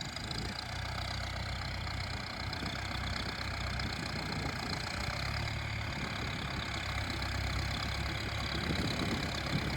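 A Massey Ferguson MF4708 tractor's diesel engine runs steadily while planting sugarcane, a constant knocking idle with a low throb and mechanical rattle, close by and without speech.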